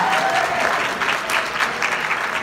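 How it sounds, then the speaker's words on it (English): Audience applause at a school symphonic and concert band winter concert, a steady wash of clapping from a crowd in a hall, fairly loud and continuous throughout. "how about a round of applause for our parents for buying our instruments"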